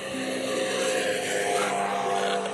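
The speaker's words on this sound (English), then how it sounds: "Over there is a scooter, just hear how much noise it makes." A gasoline scooter engine passes on a city street, a steady droning motor hum held at fairly even loudness throughout, moderately near, with no talking over it.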